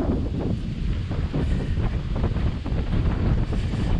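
Strong wind buffets the microphone during a hike on the E10/E8 long-distance trail, a steady, loud, rumbling roar that fills the whole stretch without pause.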